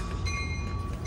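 Amtrak San Joaquin train 714, bound for Bakersfield, sits at Richmond station, with a steady, loud rumble of idling locomotive and railcars and faint tonal whine, continuous throughout with no talk.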